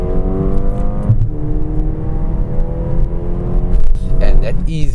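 A 2023 Mercedes-AMG A35 4MATIC hatch with hybrid electric assist accelerates in Sport Plus mode, its engine note climbing through several steady upshifts and rising again toward the end, heard close from inside the cabin.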